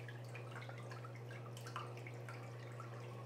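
Water runs steadily into a Black and Decker portable washing machine, a continuous close splashing trickle with light drips over a constant low electrical hum.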